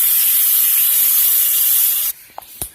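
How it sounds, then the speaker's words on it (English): Water runs from a tap in a steady rushing hiss as hands are washed, then cuts off abruptly, followed by a few small drips and splashes. "Let me wash my hands"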